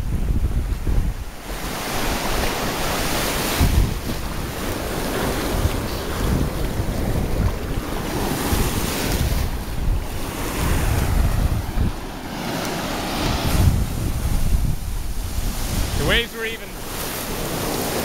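Waves from the Arabian Sea break on a beach at Gokarna, India, a continuous roar of surf with heavy wind buffeting the microphone throughout.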